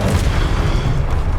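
A Confringo fire spell blasting in Hogwarts Legacy, a single loud, heavy boom that rumbles for about a second and a half, close and alone.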